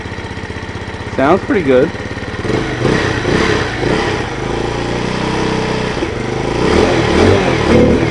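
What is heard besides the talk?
TaoTao Hell Cat Raptor 125cc motorcycle engine running and revving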